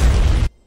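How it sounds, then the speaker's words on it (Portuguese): Short, loud bomb explosion in the video game Fortnite Battle Royale: a single heavy booming burst that cuts off abruptly into silence after about half a second. "Bomba!"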